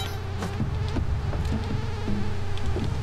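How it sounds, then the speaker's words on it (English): A mosquito buzzing in the cave platformer Spelunky 2, a close, persistent whining drone over low game rumble, with small repeated blips and thumps at a steady pulse. "God, I hate the mosquito noises."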